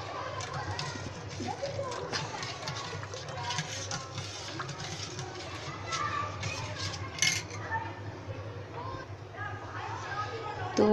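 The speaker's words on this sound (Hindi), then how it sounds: "अब बस इसे इसका शुगर गलने तक हम इसे चलाएंगे" Spoon clinking and scraping in a pot while mango panna is stirred until the sugar dissolves, steady irregular metallic taps under a person talking throughout.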